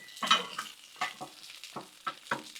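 Meatballs and Lil Smokies sizzle in oil on a Blackstone griddle as a spatula stirs them, giving a run of sharp, close scraping strokes over a soft frying hiss.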